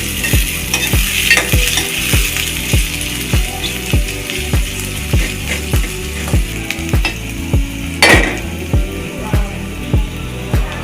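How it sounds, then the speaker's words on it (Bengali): Chopped onions frying in oil for a homestyle loitta fish curry, a steady sizzle under a regular stirring rhythm of about two scrapes per second, close and fairly loud, with no talk. "তেল দিয়ে দিলাম এবং পেঁয়াজ কুচিও দিয়ে দিলাম। পেঁয়াজটা একটু লাল লাল করে ভেজে নিতে হবে।"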